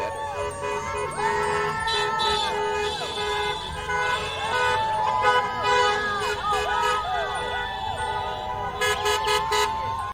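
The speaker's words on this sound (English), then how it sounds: "People were lining the streets and honking and rallying along with the Donald Trump" Car horns honk repeatedly along a street at a parade of Trump supporters, a busy overlapping chorus of toots with a siren-like wail, crowd noise and voices underneath throughout.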